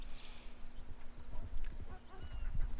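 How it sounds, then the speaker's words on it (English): A called horse approaches in Red Dead Redemption 2 online, its hooves clip-clopping closer over a faint background and a soft whinny, with game ambience around it. "I call my horse. Then my horse comes."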